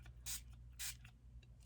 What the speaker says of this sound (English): let's just give it a little spray of water